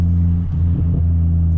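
A 300 bhp Ford Focus ST with a Volvo-derived engine idles and rumbles nearby with a steady low, even drone and slight throttle blips, without any talking.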